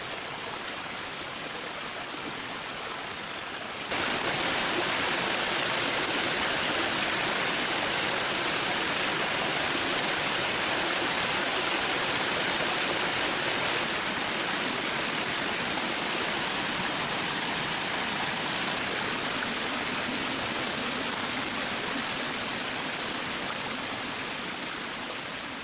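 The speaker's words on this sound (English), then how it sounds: "The day begins on the edge of a rocky stream" Water rushes steadily over the rocks of a forest stream, a dense, continuous roar that grows louder after the first few seconds and then holds without pause.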